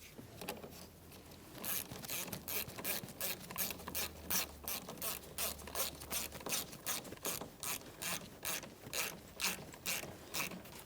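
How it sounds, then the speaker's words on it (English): A ratchet wrench tightens the 10mm nut on the positive battery terminal clamp of a 2012-2015 Honda Civic, producing a long, steady run of rapid, close, metallic clicks. "Tighten your 10mm nut."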